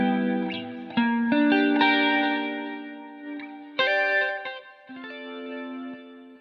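Clean electric guitar through a Nembrini Jazz Clean amp plugin, captured on an ambient mic, plays chords and single notes with chorus and echo shimmer, ringing and decaying between strums.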